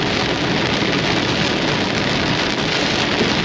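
Rain and hail from a supercell storm pound steadily on a vehicle, a dense, loud, unbroken drumming with no voices.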